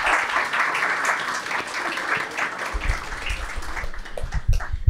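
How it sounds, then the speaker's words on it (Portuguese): An audience at a literary talk event claps in a sustained round of applause, the clapping dense and moderately loud with faint low murmurs near the end. "A plateia bate palmas."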